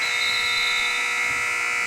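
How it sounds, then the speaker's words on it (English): A steady, loud electronic buzzer blares continuously to end the first quarter of a JV high school basketball game between Archbishop Stepinac and Salesian in a gym. "And that buzzer concludes the first quarter."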